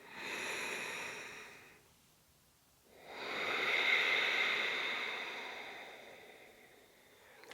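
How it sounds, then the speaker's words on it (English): A person practising Ujjayi yoga breathing makes a soft, ocean-like rushing sound from the back of the throat, one long breath, a pause, then a second drawn-out breath, close and quiet with no talking. "we need to think about creating an ocean-like sound with the back of the throat."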